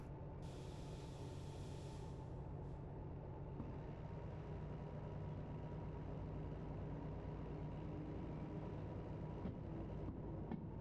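A low, steady locomotive engine rumble from the DH4 in the train simulator game Derail Valley drones on continuously with a tractor-like mechanical hum, constant in level and without speech.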